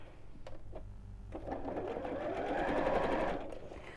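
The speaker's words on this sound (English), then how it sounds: "I've still got the mark in the centre there, and sew them together." Sewing machine stitching fabric pieces of a reversible bag together, a few short starts followed by a steady whirring run that builds, then stops, close by.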